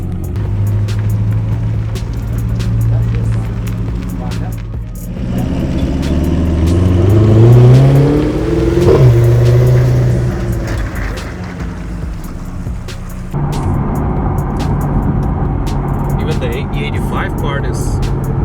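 A car engine running on E85 fuel revs repeatedly in a tuning shop, rising and falling in pitch through several throttle blips, with people talking over and between the revs.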